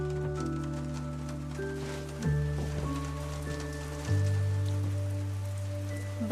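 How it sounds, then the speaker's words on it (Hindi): Rain falls steadily outside as a constant hiss, with soft sustained musical tones underneath and a couple of swelling accents. "बाहर बारिश हो रही है।"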